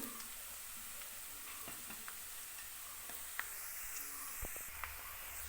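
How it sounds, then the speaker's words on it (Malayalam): Garlic, green chilli and curry leaves frying in oil for a homemade gooseberry pickle, a faint steady sizzle with scattered small crackles and pops close by, no voices. "വെളുത്തുള്ളി പച്ചമുളകും കറിവേപ്പില ഇട്ട് കൊടുത്തിട്ടുണ്ട് അത് നന്നായിട്ട് നമുക്ക് മൂപ്പിച്ച് കൊടുക്കാം"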